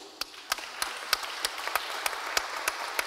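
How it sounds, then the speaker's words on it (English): Applause for panelists after a digital democracy discussion: a soft bed of scattered clapping from a modest audience, punctuated by sharp, regularly spaced close hand claps roughly every third of a second. "Give them all a round of applause,"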